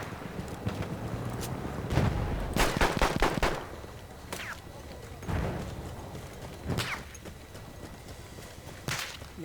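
Gunfire in a Battlefield 1 multiplayer match: sharp, cracking rifle shots sound at irregular intervals, a tight cluster near the start and then single reports, over low battlefield rumble.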